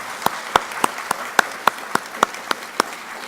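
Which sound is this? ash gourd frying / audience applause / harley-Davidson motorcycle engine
audience applause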